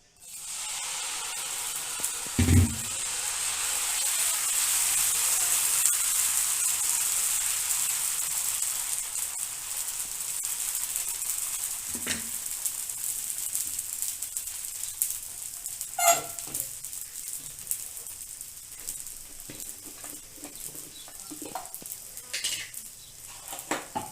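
Dosa batter made with fenugreek, flattened rice and onion hits a hot pan and sizzles, giving a steady close hiss with occasional scraping and knocks as it spreads.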